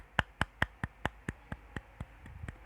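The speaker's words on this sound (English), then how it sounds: "Let's clap our hands." A class of students clapping hands in unison in a classroom, about a dozen evenly spaced sharp claps at a steady rhythm, fairly quiet and alone, fading slightly toward the end.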